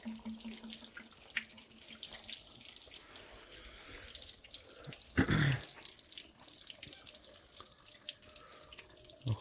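Coolant slowly draining from the radiator of a Mete 3105 tractor, a steady trickle and drip running for the whole stretch with one louder splashing burst midway.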